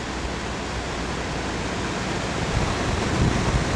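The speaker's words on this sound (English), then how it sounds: "as it goes over the rocks, it's more of a waterfall" Water pours over rocks below a small dam in Bath, New Hampshire, a dense, steady rushing roar that stays constant throughout and swells slightly near the end.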